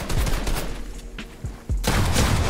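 Several gunshots ring out in a console video game. Sharp, loud cracks come in quick succession, with a dense burst of fire near the end and no voices.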